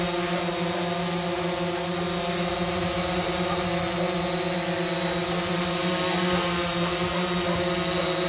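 Continuous buzzing drone of a male honeybee, a steady harmonic whine, unchanging and fairly close, with no talking.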